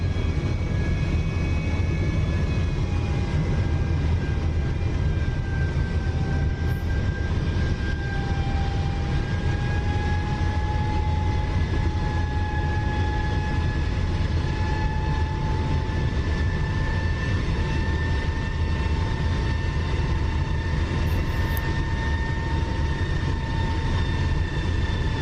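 VSN F-106 Delta Dart jet landing in the DCS flight simulator, a steady, loud engine roar with high whining tones that slowly shift in pitch, running continuously throughout with no talking.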